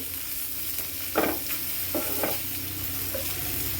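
Okra fries with onion and chilli in coconut oil, a steady close sizzle broken by a few scraping stirs of the spatula through the pan.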